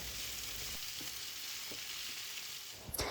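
Onions and peppers frying in a pan, a soft continuous sizzle with a few light taps and a sharper utensil clink at the very end.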